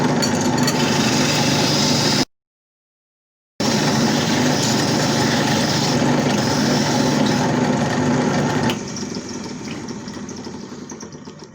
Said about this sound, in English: We're going to sand them before we cut them off, and then they should be perfect.